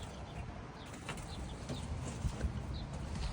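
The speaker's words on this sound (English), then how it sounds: "We've got a sparrow in cab." A sparrow trapped inside the cab of a Deutz Fahr tractor flutters in quick, faint bursts of wingbeats and soft chirps over a low rumble, with no one talking.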